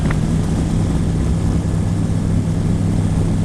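A microlight aircraft's engine roars loud and close during the takeoff roll, a steady droning propeller hum with a strong low tone and no talk over it.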